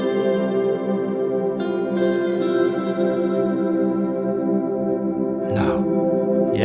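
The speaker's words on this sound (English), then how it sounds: "if you press it once, super easy, it just freezes the reverb sound" Guitar effects pedal holding a frozen reverb, a sustained shimmering chord that hangs evenly and loud, with a few fresh notes layered in partway and a brief noisy scrape near the end.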